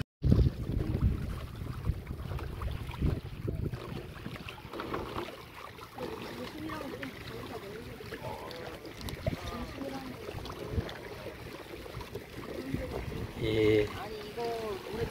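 An outrigger boat is pushed from the shore into the sea at Boracay on a morning sailing trip, with steady water and wind noise throughout and people talking nearby.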